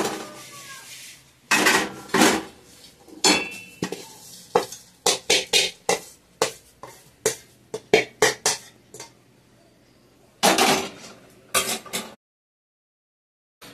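Lightly roasted dry coconut, for Telugu putnala podi, is tipped from the pan into a bowl. A string of sharp scraping clatters and knocks comes in bursts, then falls silent at the end.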